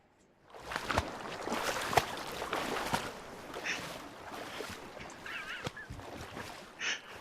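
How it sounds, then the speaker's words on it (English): Splashing water from a pool-entry soundtrack effect, a run of irregular slaps and sploshes across several seconds, fairly close and alone with no talk. "It's angry splashing."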